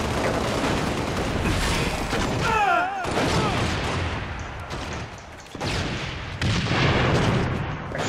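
Repeated booming grenade blasts and gunfire from the Halo Reach multiplayer video game fill the mix, loud and dense throughout, with brief dips in between.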